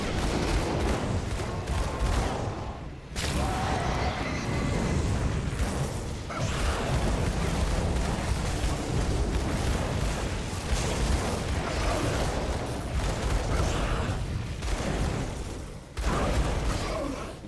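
Tier 3 turrets fire continuously in the action RPG Grim Dawn, a dense, loud barrage of gunfire and explosive bursts with a brief lull early on, carrying on almost without pause.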